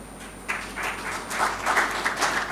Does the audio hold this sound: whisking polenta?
no